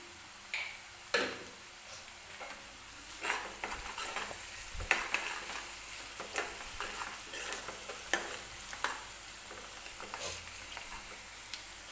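Onions roasting in oil with a pinch of salt for pav bhaji give a steady close sizzle, broken by repeated sharp clicks and scrapes of a spoon stirring the pan.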